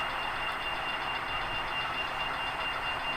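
Rapido Amtrak RTL Turboliner model train running its startup sound sequence, a steady hissing turbine-like whine with a faint high tone throughout, close and continuous, no talking.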